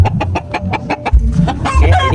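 A chicken clucks in a quick, loud run of short notes close by, with rustling and low background noise around it.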